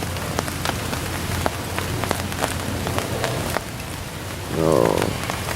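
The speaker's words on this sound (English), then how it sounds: "It's 6:30 in the morning, and it's raining." Rain patters steadily on a campsite early in the morning, with scattered close drops striking surfaces over a constant wash, and a brief louder rustle near the end.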